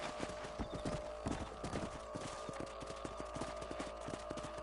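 Horse hooves clip-clop in a steady rhythmic gait as a rider travels across a ranch property in the video game Red Dead Redemption, clear and close under faint background ambience.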